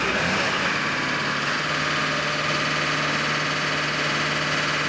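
A diesel tow truck with a fuel-system fault that keeps it from reaching highway speeds runs in a constant, loud engine drone with a low hum and no other sounds.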